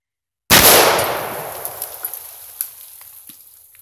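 A single loud, close shot from an AR-15 rifle fired outdoors, with a sharp crack followed by a long decaying echo and a few faint clicks afterward.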